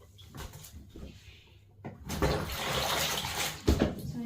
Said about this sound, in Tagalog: Tumutulo ito pag kinakamay lang.